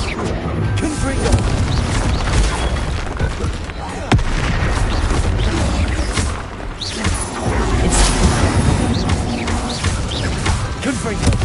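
Confringo fire spell explosions in Hogwarts Legacy crackle and boom in a dense, continuous barrage of loud blasts, with voices mixed into the chaotic game noise.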